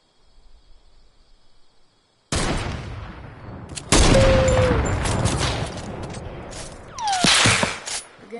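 Sniper rifle fire in a Fortnite match: a loud sharp shot bursts in, followed by further heavy reports and crackling gunfire echoing through the rest, with a faint whistling tone and a quiet opening before the shooting.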